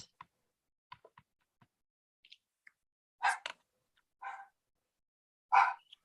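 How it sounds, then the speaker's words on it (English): Dogs barking in a home, with a few faint, scattered yips early on, then three loud, sharp bark bursts close by in the second half, each separated by a short silence. "Now my dogs are going."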